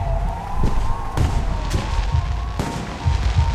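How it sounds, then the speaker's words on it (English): Fireworks burst in the video game Alpha Protocol: several sharp booms at irregular moments over a steady droning wail, loud and close, with no talk. "The noise from those fireworks should cover the sound of gunfire."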